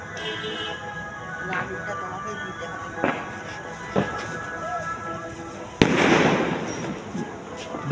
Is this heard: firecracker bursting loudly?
yes